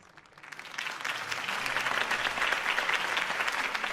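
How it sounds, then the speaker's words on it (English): Crowd applause follows a campaign speech in the Batman Telltale video game, a dense, steady clapping that swells in the first half-second and holds for several seconds, with no talk over it. "If only Mr. Wayne, my campaign's largest backer, could have heard that applause"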